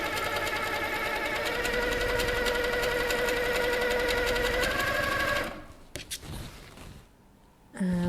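A Handi Quilter Sweet Sixteen quilting machine stitches steadily and loudly up close for about five seconds, then stops, leaving a few brief clicks and handling noises before a short burst at the end.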